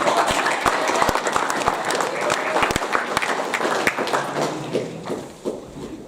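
A school assembly audience at Porirua College claps in a sustained round of applause, sharp individual claps scattered over a crowd's patter, gradually thinning out toward the end.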